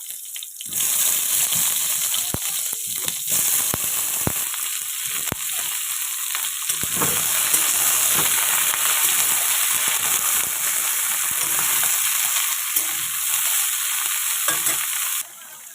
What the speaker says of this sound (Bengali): ওই মাছ ভাজা তেলেই বেগুনগুলোকে আমি ভালো করে একটু ভেজে নেব